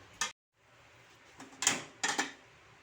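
A lid clatters back onto a pot of simmering chicken tinola, a quick metallic clink followed by a couple of short rattles as it settles, close by in a quiet kitchen.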